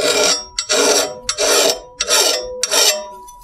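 A hand file rasps across a lawn mower blade edge to pull off a burr, five short, loud strokes in an even rhythm with brief pauses between them.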